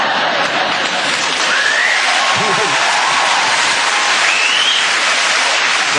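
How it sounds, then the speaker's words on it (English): A studio audience at a television talk show breaks into dense, sustained applause, a steady wash of clapping filling the whole stretch without pause. "There wouldn't be this applause if you'd seen it."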